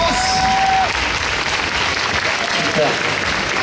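A festival crowd in Marseille claps steadily for prize winners, a dense, loud burst of applause that holds throughout, with a few voices calling out beneath it.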